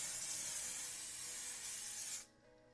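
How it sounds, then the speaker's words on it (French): A spray can of activator hisses in one steady, close burst over hydrodipping film laid inside a container, then cuts off abruptly, leaving quiet room tone. "Je vais mettre un petit coup de spray activateur,"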